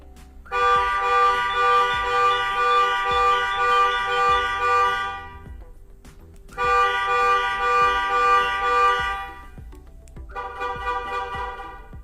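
A car alarm on a Kia or Hyundai blares close and loud in three long repeating tone bursts separated by short pauses, the last burst cut shorter.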